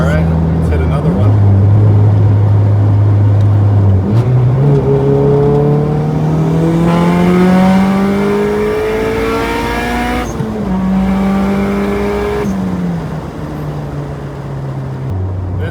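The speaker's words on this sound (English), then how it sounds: "Spin a little tire for you, bud." A turbocharged Honda Civic revs hard and spins its tires, the engine note climbing and shifting in loud sweeps with a whine over the top, close up, while a person talks over it.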